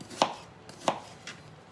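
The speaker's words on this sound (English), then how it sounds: "cut this onion up some here" Knife chopping an onion on a cutting board, three distinct solid thunks spaced roughly half a second apart, close and clear with a faint background hiss.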